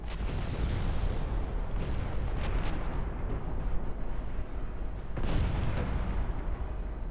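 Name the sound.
warship secondary guns firing in Ultimate Admiral Dreadnoughts video game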